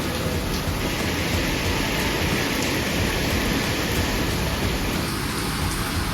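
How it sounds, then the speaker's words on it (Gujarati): Steady, heavy rain pours down in a constant broadband hiss with no voices. "આપણે વરસાદ શરૂ થઈ ગયો છે તમે જોઈ શકો છો"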